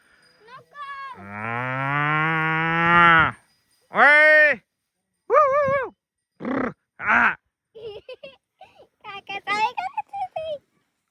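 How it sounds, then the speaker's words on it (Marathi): A bull lets out a long, loud moo nearby, then several shorter moos and grunts follow in quick succession, with people talking around it. "पण एक बैल आहे वर का"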